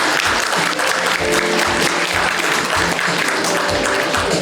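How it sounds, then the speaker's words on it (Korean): An audience at a tuberculosis prevention day ceremony claps steadily and loudly to welcome the disease control commissioner onstage, a dense, even burst of applause that fills the hall. "청장님을 따뜻한 박수로 무대로 모시도록 하겠습니다"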